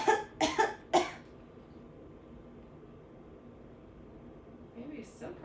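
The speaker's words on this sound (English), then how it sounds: "I'm gonna have you cough a couple times." Three quick coughs come from a person lying for an ultrasound exam, loud and close at the start, then a quiet room hum with a faint sound near the end.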